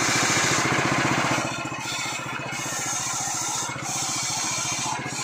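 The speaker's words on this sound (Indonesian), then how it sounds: "Ini kompresornya kondisinya sekarang lagi nyala, jadi nggak terlalu berisik kayak mesin parut kelapa" A steady mechanical drone of a Toyota Alphard's air suspension compressor running, fairly loud and continuous, with a pulsing buzz and slight dips in level.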